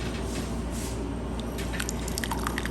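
Red taqueria-style salsa is poured into a bowl up close, with soft wet drips and squishy splats over a steady low kitchen hum.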